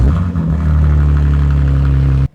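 BMW M3 Competition engine running with no muffler fitted: a loud, close, deep droning exhaust that swells after a rough start, holds a steady raspy rumble, then cuts off abruptly.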